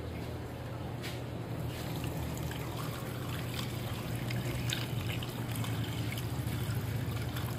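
Water trickles and drains steadily through a sieve as daphnia are strained in a backyard setting, a continuous close, moderate splashing flow with no speech.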